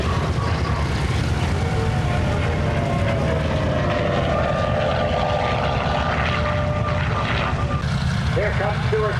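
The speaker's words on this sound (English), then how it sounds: "Here comes Stuart Dawson from the back with a victory roll showing 3 enemy Japanese Zero shot down" A vintage warbird propeller airplane flies over a 2004 air show at Terre Haute, a loud steady engine drone that rises and sweeps past while an announcer talks over it.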